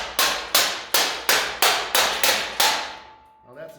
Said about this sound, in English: Bang it into place.